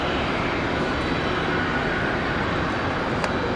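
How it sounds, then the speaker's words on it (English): A JetBlue jet airliner taxiing toward its gate at Raleigh-Durham International Airport, giving a steady, broadband engine rumble and whine at moderate distance that holds constant throughout with no talking. "JetBlue making their way into their gate."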